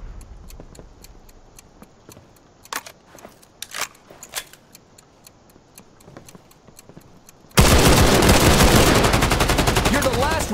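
Gunfire in a multiplayer shooter video game: a few sharp isolated shots and clicks over quiet game ambience, then a sudden loud, sustained burst of rapid automatic fire to the end, close and dominant.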